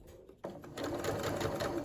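A sewing machine stitches shirt fabric. After a brief quiet moment the motor starts up and settles into a continuous fast mechanical whir with a rapid needle chatter, close and clear.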